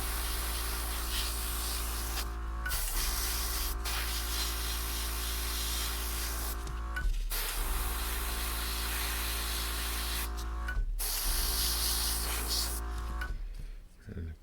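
Airbrush or spray can laying a coat of paint onto 1/35 scale model bags for a Hobby Boss Delta Force FAV, a steady continuous hiss broken by a few brief pauses, close and fairly loud.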